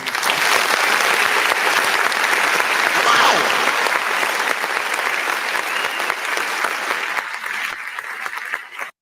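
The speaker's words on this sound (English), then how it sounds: "let's give Mother Coretta Scott King a round of applause." Sustained audience applause honoring Coretta Scott King at an evening tribute event, a loud, dense wash of clapping that holds steady for several seconds before trailing off abruptly at the end.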